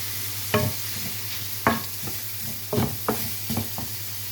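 Meat fries in a pan that has just been used to pan-fry potatoes, a steady close sizzle broken by several sharp stirring scrapes and clatters at irregular intervals.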